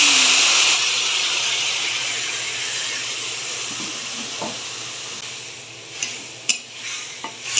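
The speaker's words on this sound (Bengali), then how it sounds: "আন্দাজ মতো লবণ দিয়ে একটু লাড়াচাড়া করে লই।" Spiced potatoes being stirred with salt in a hot pan: a loud, bright sizzling hiss that slowly fades, then a few scraping clinks of a utensil against the pan near the end.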